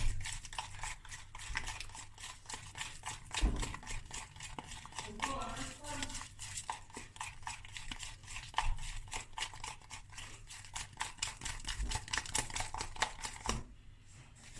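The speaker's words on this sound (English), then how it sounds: "And then you just give it a good stir." A spoon beats quickly through a lemon glaze for a bundt cake, making a rapid, steady series of close scraping and clicking strokes against the bowl that runs almost the whole time.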